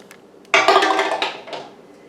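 Glass jars of green beans with bacon set down into a metal home canner, a sharp clattering clink followed by a few lighter knocks and rattles that fade out, close and loud.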